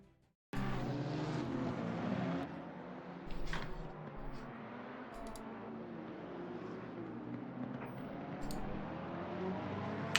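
Race cars on a warm-up lap at Bathurst in a racing video game, their engines droning steadily and continuously at close range with occasional louder swells as cars pass.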